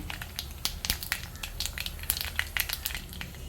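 Mustard seeds spluttering in hot oil in a home kitchen make a faint, irregular crackle of sharp pops and sizzling with no talk.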